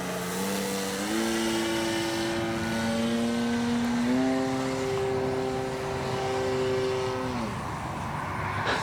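A CNHL Bison XT STOL model airplane passes close by in the field, its electric motor a loud steady whine that steps up in pitch, holds, then drops away.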